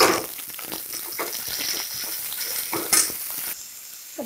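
Sliced onions with ginger garlic paste fry in a hot pan, giving a steady close sizzle broken by scraping stirs and a brief clink near the end, with no voices.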